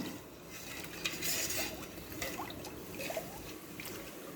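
Sugar is stirred into a beetroot wine mixture, giving a soft, steady swishing of liquid with faint spoon clinks against the container. The sound is quiet and close, with no talking.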